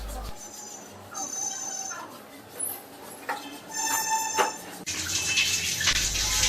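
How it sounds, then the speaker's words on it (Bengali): Greasy mesh filter grilles from a Rizco box-type kitchen hood are rinsed under running water, a steady splashing hiss that swells louder toward the end, with a voice talking over it. "জালিগুলো ধুয়ে ফেলা হচ্ছে।"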